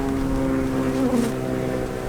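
Honey bees from a nearly empty bee package drone in a close, steady buzz with a wavering pitch that shifts briefly midway, alone without speech.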